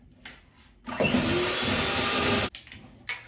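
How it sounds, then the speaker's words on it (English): An electric mixer whirs steadily for about one and a half seconds as it blends flour with chunky monkey ice cream into a dough, then cuts off. Quieter kitchen noise comes before and after. "we're going to use the electric mixer to mix it all together"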